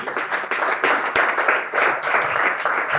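Steady, dense applause from a church congregation, many hands clapping continuously at close range without a break.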